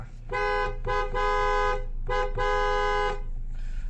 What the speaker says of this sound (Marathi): तर आतून हॉर्न दाबवायचा